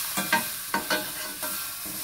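A little onion goes into hot oil for an egg and potato curry, giving a continuous hissing sizzle. A few distinct knocks and scrapes from stirring stand out up close, and no one speaks.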